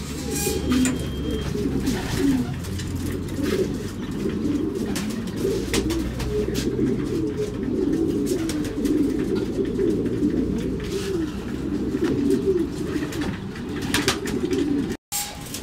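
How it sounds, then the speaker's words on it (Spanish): Pigeons coo in a low, continuous, overlapping murmur from many birds, steady and fairly close throughout, with no talking. "Se están las palomas"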